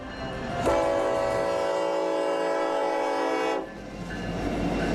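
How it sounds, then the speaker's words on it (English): A freight train hauling the last Space Shuttle solid rocket boosters down Florida's east coast sounds one long, loud, steady horn blast lasting about three seconds over the low rumble of the rolling cars. "The train rolls south down Florida's east coast."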